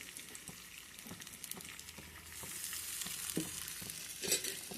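Ginger-garlic paste fries in about four spoons of oil in a pan, a soft steady sizzle with intermittent crackles and stirring scrapes, growing slightly louder toward the end.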